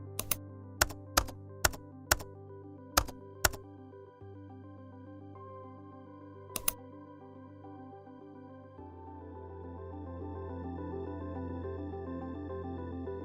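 Typing text on a computer keyboard, about eight sharp separate key taps in a quick irregular run and one more after a pause, over soft background music.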